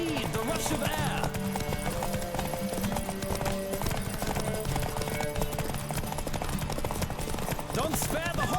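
Racing horses gallop hard in The Witcher 3, a dense continuous thunder of hoofbeats with an occasional whinny, loud and close, set against game music and speech.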